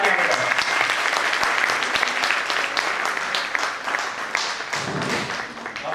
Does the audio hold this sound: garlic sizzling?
no